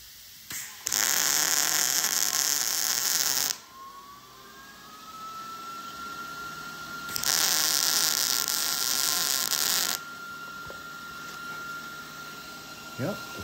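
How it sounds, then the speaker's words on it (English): Welding of a Dzus tab mount from the underside of a 1967 Chevy Nova drag racing car, with two loud sustained bursts of crackling, hissing arc noise separated by a quieter spell and steady background hum. "We'll weld this one from the underneath side,"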